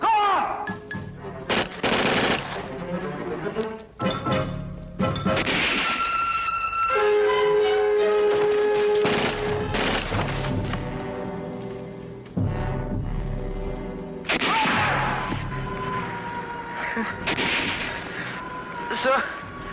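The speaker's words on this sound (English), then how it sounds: "Tell Lieutenant Harry the whole battalion's being spotted for enemy artillery!" Battle sounds in a war film: booming artillery blasts and bursts of gunfire hit again and again in loud clusters, with shouting voices between and over the explosions.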